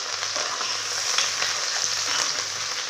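Large-cut onions, curry leaves and a green chili sauté in a pan for a coconut fish curry, giving a steady, close sizzle throughout with faint stirring touches and no talking.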